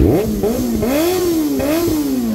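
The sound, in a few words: motorcycle engine revving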